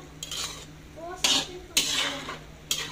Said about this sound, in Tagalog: Halo-haloin lang natin ng bahagya hanggang sa siya ay lumapot guys yung kanyang sabaw.